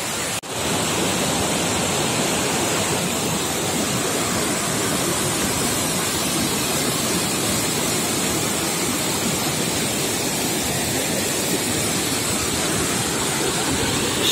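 Dense, continuous roar of a waterfall right beside the road at Uzungöl in Trabzon, loud and close, steady rushing water with no pauses.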